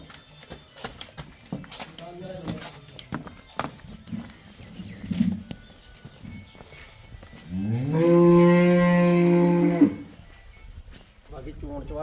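A cow or buffalo on a dairy farm gives one long, loud, close moo lasting about two seconds, set among farm chatter, scattered clatter and footsteps, with people talking before and after the call.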